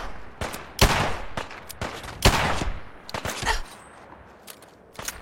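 Rapid bursts of video game gunfire crack out in quick, irregular volleys, some single shots and some clustered, loud and close with brief gaps between them.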